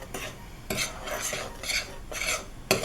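Salt being stirred into a homemade playdough mixture in a bowl, with repeated scraping strokes in bursts, close and fairly loud, with no voices.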